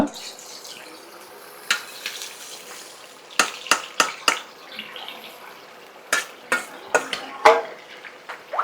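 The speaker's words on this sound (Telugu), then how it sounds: "ఇప్పుడు ఇందులో నేను చికెన్ వేసేస్తున్నాను కేజీ చికెన్ అండి కొంచెం వాటర్ ఉంది జాగ్రత్తగా వేస్తున్నాను" Sharp sizzling bursts erupt in hot oil as a kilo of wet chicken pieces drops into the pan, crackling loudly in several spurts amid quieter frying hiss.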